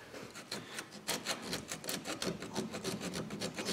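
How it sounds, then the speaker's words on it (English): Rust is scraped out of the speed sensor hole on a Ford Explorer Sport Trac in quick, repeated rasping strokes, close up and fairly quiet, without talk. "Dig all the rust away."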